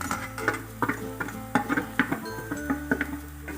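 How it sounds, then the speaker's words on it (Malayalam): Avil upma with grated coconut stirred in a pan, with a utensil scraping and tapping the metal in an uneven rhythm of close, moderate clinks over a steady low hum; no talking. "നല്ലപോലെ ഇളക്കുക."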